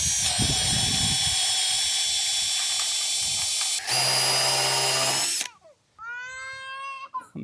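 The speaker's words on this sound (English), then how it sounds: "So these do a great job at cutting holes right through this wood" A carbide-tipped TCT hole saw, about 1 1/4 inch, bores through wood on a power drill with a pilot bit. The motor whines loud and steady for several seconds, then stops. A shorter, revving burst of drilling follows.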